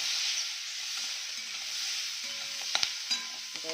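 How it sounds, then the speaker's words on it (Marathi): Chopped onion and green peas sautéing in a pan, a soft steady sizzle with a few stirring clinks and scrapes near the end, no voices. "हे कांदा आपण चिरून घेतला तो पण यासोबत ॲड करूया छानाला परतून घेऊया"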